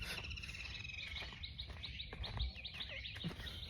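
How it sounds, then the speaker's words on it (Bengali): Small birds chirp and twitter repeatedly in quick, high bursts by the Kopotakkho river in the afternoon, faint and somewhat distant against a soft outdoor background. "পাখির কিচিরমিচির শব্দ"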